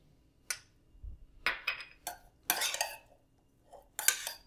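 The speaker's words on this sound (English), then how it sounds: "I give them a little mix together" A peach, pear and blueberry salad being gently mixed in a bowl, giving a few soft, separate clinks and scrapes of utensils against the dish with quiet pauses between them.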